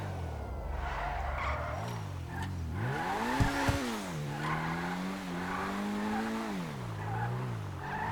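A car in GTA V drives down an airport runway, its engine rising and falling in pitch through gear changes with tire squeal and skidding, sustained and fairly loud.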